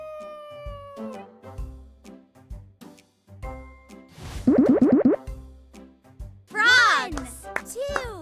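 Cartoon cat meows as a sound effect in a preschool counting game, several bright rising-falling meows near the end among boings and cheerful jingles, with a child-friendly voice speaking in between.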